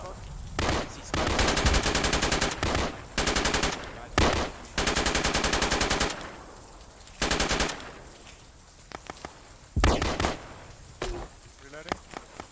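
Loud bursts of rapid machine-gun fire in several long strings, separated by pauses and scattered single shots, close and sharp.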